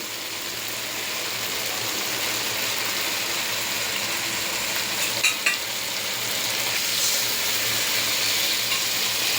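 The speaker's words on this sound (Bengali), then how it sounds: "মরিচ মশলা এখানে সব কিছু দিয়ে কষিয়ে নিচ্ছি" Chili and spices sauté in a pan for a koi fish and potato curry, a steady, close sizzle hissing on without pause, broken by a couple of faint clinks.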